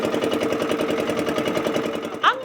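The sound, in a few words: engine running at sea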